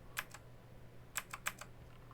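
A few quiet keyboard key clicks, one single tap followed by a quick cluster of three or four presses, in an otherwise quiet room.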